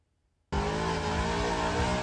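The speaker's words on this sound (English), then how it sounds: "Videos from Only in Dade show people unapologetically doing donuts" Cars doing donuts during illegal street racing in Miami. After a moment of silence a loud, sustained roar of revving engines and squealing tires bursts in and holds steady.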